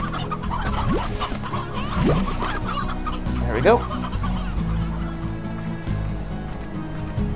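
Chickens in the video game Slime Rancher cluck and squawk in short bursts over a steady synthetic background hum, with a brief spoken remark near the start.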